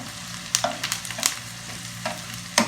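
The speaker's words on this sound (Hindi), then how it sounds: "हमारे प्याज हल्के ब्राउन हो चुके हैं।" Onions browning in a pan for Kabuli pulao, with a soft steady sizzle under repeated scraping stirs of a utensil against the pan at an irregular rhythm, close and fairly loud.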